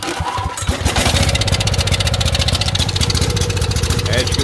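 A small generator engine with a bad carburetor, experimentally converted to propane, sputters to life and settles into a steady, loud running chug with a rapid regular pulse.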